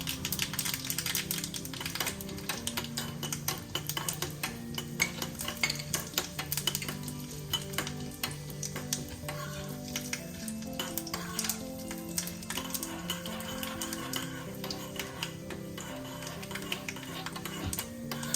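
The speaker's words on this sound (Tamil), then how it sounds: "இப்போ தாளித்து கொட்டுறதை காமிக்கிறேன் பாருங்கள் இப்போ உளுத்தம்பருப்பு போடுறேன்" Urad dal frying in hot oil for a chutney tempering, steady crackling sizzle with repeated spoon clicks and stirring taps close by, no talking.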